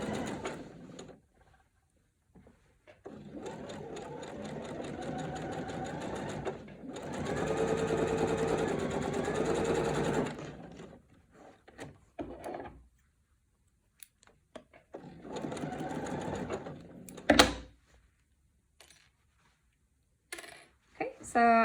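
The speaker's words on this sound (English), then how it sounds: "I'm gonna go ahead and sew directly on the line I just drew" A sewing machine stitches quilt binding along a drawn line in two sustained runs of rapid whirring, the first longer and the second shorter, separated by quiet pauses and small handling clicks.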